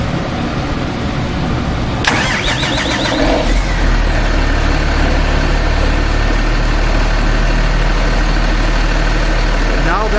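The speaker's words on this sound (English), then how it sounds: "Now that the engine is operating, to increase the RPM, use the toggle switch" A Darley fire pump engine runs steadily just after starting, holding a low, even idle drone throughout. A brief broadband burst marks the start-up before the engine settles.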